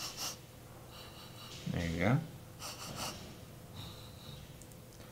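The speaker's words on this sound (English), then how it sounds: "You're gonna do what is called a bloodhound sniff" Two or three quick, short sniffs of a glass of lager, bloodhound style, close up, with a person talking around them.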